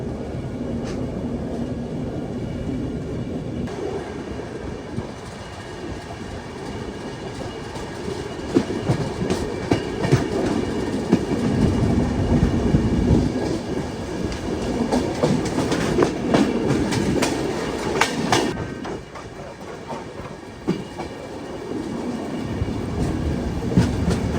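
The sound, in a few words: Duronto Express train passing through Basin Bridge Junction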